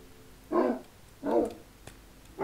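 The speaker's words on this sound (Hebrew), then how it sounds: "זה כלב מוזר." Dog barks from a video game dog mod: three short, fairly loud barks spaced about a second apart, each a brief burst over a quiet background.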